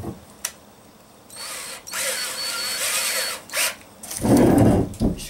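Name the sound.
power drill drilling holes in solar panel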